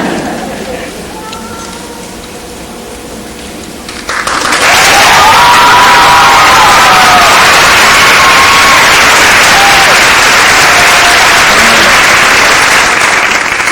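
Pageant audience applauding the 2003 Little Mr. Strassenfest winner, loud sustained clapping and cheering from a crowd swelling in after a quieter stretch of room noise and continuing at full strength, with a voice talking over it.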